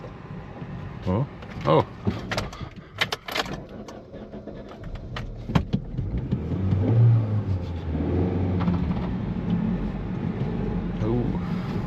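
A car with missing engine-bay parts is started, with clicks and clunks followed by an engine that settles into a low, steady idle; a man's brief exclamations come over it.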